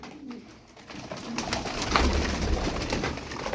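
Tumbler pigeons coo softly and repeatedly against a busy background rustle, the low throaty calls blending into a continuous murmur.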